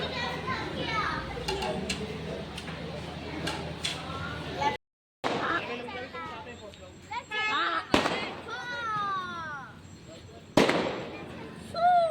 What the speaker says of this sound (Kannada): ಇಲ್ಲಿ ನೋಡ್ರಿ ಈಗ ಪಟಾಕಿ ಹೆಂಗೆ ಹೊಡ್ಲಿಕತ್ತಾರ ನೋಡ್ರಿ